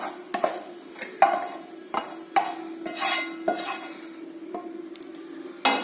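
Cooked noodle filling is scraped out of a pan into a bowl with a spoon, producing repeated sharp metal-on-pan clacks and scrapes over a faint sizzle, close and fairly loud.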